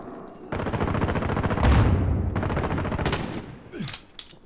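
Sustained automatic gunfire in Call of Duty: Modern Warfare, a dense, loud burst of rapid shots, a brief pause, then a second long burst, ending with a few scattered impacts.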